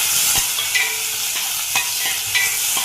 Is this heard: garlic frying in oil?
yes